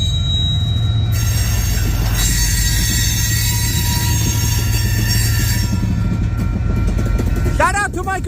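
A freight train rumbles past close by in St Paul, Minnesota, a loud steady roar of rolling cars with high metallic wheel squeals ringing throughout and sharpening into wavering shrieks near the end, with voices faintly underneath.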